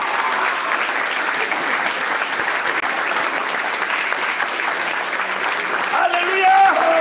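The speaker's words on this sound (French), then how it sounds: "Applaudissons pour le Seigneur." A church congregation applauds at a French-language worship service, a steady dense wash of clapping that holds throughout, with a voice speaking over it near the end.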